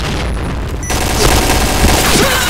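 A grenade goes off in the Point Blank shooter, a loud burst of booming and crackling gunfire-like noise that flares up after a short quieter stretch and lingers.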